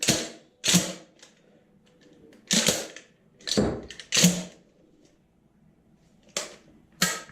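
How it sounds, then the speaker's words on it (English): Remington 870 pump shotgun being function-checked with snap caps, a series of sharp metallic clacks and ratcheting snaps as the action is cycled and the rounds eject, in separated bursts, close and alone. "Works as it should, safety functions as it should, and it ejects shells as it should."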